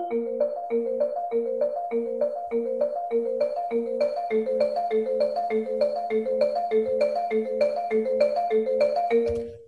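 Marimbas trading a rapid 16th-note run between players, one at a time, producing a steady, bright, evenly pulsing stream of wooden mallet notes over repeating low tones, clear and close without any talk.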